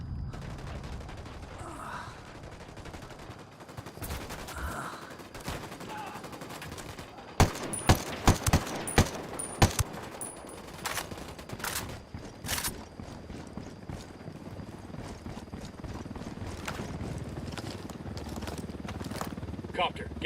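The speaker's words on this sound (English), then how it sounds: "Opening fire on these fuckers." Bursts of automatic gunfire in Tom Clancy's Ghost Recon: Wildlands, a dense run of loud shots in the middle with scattered rapid fire continuing after, over game ambience and intermittent voices.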